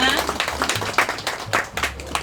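Scattered clapping from an audience at a Korean ceremony where guests are being introduced. The claps are sparse and uneven over a low, steady hum, with some voices mixed in.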